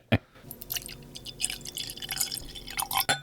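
Liquid trickles and drips unevenly from a pouring stream, a quiet splashy flow with scattered droplets and small clinks.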